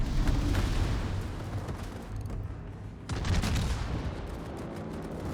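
Tirpitz battleship guns firing in a ranked World of Warships match, deep booming salvos with rolling rumble, a lull and then another heavy burst, dense and continuous, with no voices.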